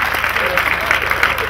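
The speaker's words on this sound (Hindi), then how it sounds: "ताली बजाओ" Audience clapping at a live Hindi comic poetry recital, steady applause with a crowd murmur and some voices under it.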